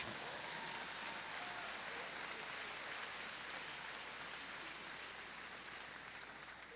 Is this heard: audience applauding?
yes